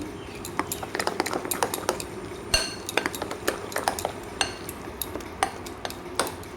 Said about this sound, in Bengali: স্বাদ অনুযায়ী নুন হলুদ গুঁড়ো ধনের গুঁড়ো গরম মশলা ডালটাকে ভালোভাবে মিশিয়ে নেব